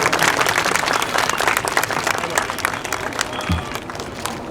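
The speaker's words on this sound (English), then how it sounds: "You can clap for that." Crowd applause at an outdoor park unveiling ceremony in Paterson, a full wash of clapping that tapers slightly toward the end, with a few voices faintly mixed in.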